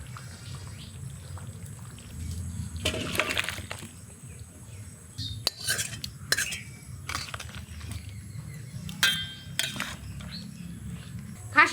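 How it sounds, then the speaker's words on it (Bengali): Mutton and potato curry is poured from a cooking pot, with wet slops and scattered metallic clinks and knocks of the pot and utensils, fairly close and irregular. "এখন তরকারিটা ঢেলে দিই"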